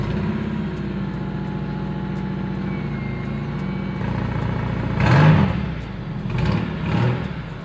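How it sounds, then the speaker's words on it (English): Honda S2000 engine with a severe exhaust leak, idling with a steady low drone, then blipped into two loud revs near the end. "it's got one of the worst exhaust blows I've ever heard"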